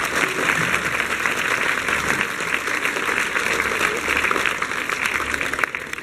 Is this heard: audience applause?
yes